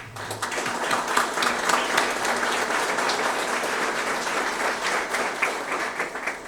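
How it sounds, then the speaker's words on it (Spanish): Steady, strong applause from a seminar audience welcoming a speaker, many hands clapping in a continuous dense wash for several seconds, with no voices over it. "recibamos con un fuerte aplauso al licenciado Rudy Santos"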